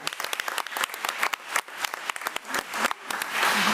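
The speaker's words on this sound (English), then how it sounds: "Let's give Jordan Russ another round of applause." Applause from an audience at a county school district board meeting, honouring a student: steady, dense clapping from many hands that fills the room throughout and swells slightly toward the end.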